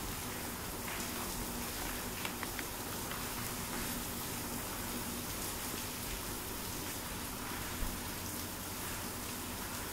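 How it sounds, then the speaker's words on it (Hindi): Rain falls outside, heard from indoors as a faint, steady hiss with scattered soft drops, continuous and even throughout. "बाहर बारिश हो रही है तो थोड़ी सी उसकी भी आवाज़ आपको आ रही होगी।"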